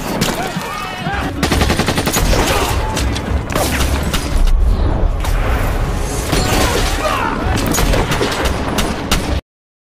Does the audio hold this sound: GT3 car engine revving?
no